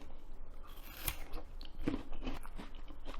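A bite into a juicy, crunchy yacon root, heard close up as crisp, wet crunches and chewing noises in an irregular rhythm, with no talking.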